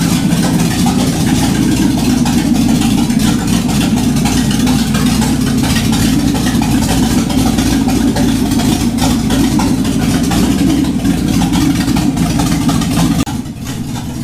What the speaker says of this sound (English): It doesn't sound great because it's a low compression engine with open headers